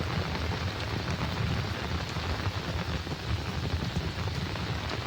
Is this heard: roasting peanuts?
no